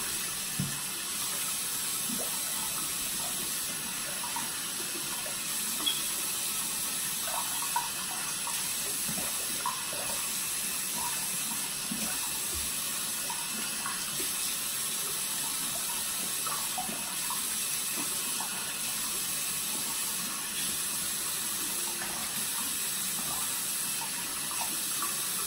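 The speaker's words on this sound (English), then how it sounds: "Okay, so then you turn your lukewarm water on, and you're gonna rinse it off." Lukewarm tap water running steadily into a bathroom sink, a constant broad hiss and splash at moderate level with faint scattered clicks, continuing alone for the whole stretch.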